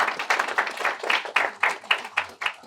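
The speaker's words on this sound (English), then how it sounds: "a big round of applause for everybody" A volunteer appreciation gathering breaks into applause, with a couple of dozen quick, sharp claps in an uneven rhythm, moderately close and fairly light, as from a small group.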